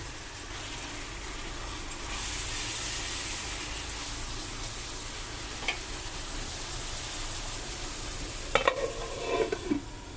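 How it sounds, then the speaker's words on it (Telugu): Onions fry in oil in a pan for crab curry, a steady close sizzle with a few light stirring scrapes and clinks near the end, no voices. "గోల్డెన్ బ్రౌన్ కలర్ వచ్చే వరకు ఆనియన్స్ ఫ్రై చేసుకోవాలి"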